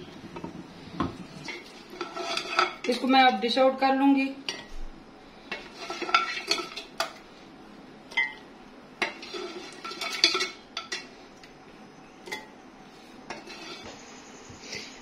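Mutton namkeen gosht, Peshawari style, is served out of a cooking pot with a metal utensil, giving scattered clinks and scrapes of metal against the pot across the clip, with no talking.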